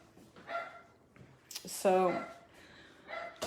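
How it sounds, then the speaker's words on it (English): A neighbor's dog barks a few times at a distance, faint single yips spread across a few seconds, while a person speaks close by. "I don't know why that dog is really just distracting me right now."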